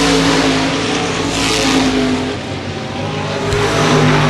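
Modified race cars roaring around the oval at Baer Field Speedway, a loud continuous engine drone that swells and dips as cars pass close.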